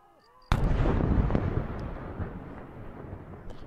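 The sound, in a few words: large firework shell explosion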